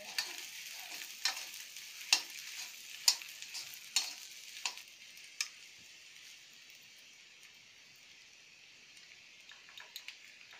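Peas that were fried in oil earlier are added to a pan and stirred for a kachori filling. Soft sizzling runs throughout, with several sharp clinks and taps in the first half, then fades to a faint hiss.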